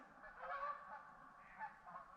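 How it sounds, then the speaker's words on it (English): Geese honk while flying in over a Montana hunting camp, a faint, distant flock calling in overlapping, wavering bursts with no one talking. "Got some geese coming in."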